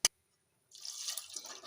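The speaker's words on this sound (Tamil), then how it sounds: "இப்போ தேவையான அளவு தண்ணி ஊற்றிக்கலாம்." Water poured into a pot of kadalai maavu sambar, opening with a sharp tap, then after a short silence a soft, steady splashing pour, close and quiet.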